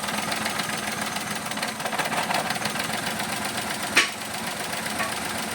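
A 2017 Nissan Almera engine runs rough with a misfiring cylinder, a continuous uneven chugging idle heard close up with one sharp click partway through.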